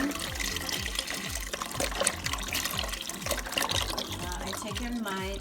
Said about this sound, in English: we're going to add the chicken stock